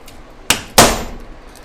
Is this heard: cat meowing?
no